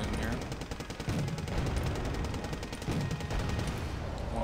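Rapid automatic gunfire from fire support infantry in the video game Wargame Red Dragon, a dense continuous rattle of shots throughout, with a voice speaking over parts of it.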